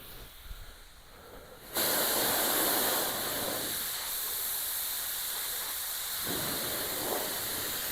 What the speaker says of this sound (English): I already have my primer in the gun and I'm ready to spray.